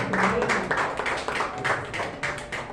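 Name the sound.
church congregation applauding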